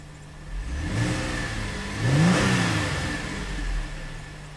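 A GM V6 engine runs steadily up close, its idle hum swelling into a brief rev near the middle before settling back to a smooth, even run.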